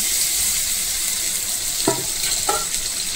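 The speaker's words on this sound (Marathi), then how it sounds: "आता आपण पहिला कांदा टाकून घेऊया। तेल टाकायचं आपल्याला" Onion fries in hot oil for paneer bhurji, making a loud steady sizzle with a couple of brief stirring clatters near the end, close up.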